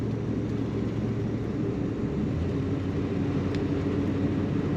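A 1967 Chevrolet Chevelle SS convertible accelerates at full throttle, its engine a steady low rumble with road and wind noise, continuous and loud from start to finish.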